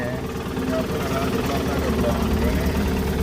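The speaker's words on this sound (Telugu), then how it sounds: "పైన డ్రోన్ అండి" An agricultural spraying drone hovers overhead above crop fields, a steady droning motor hum with a buzzing rotor tone, continuous and fairly loud, while people talk nearby.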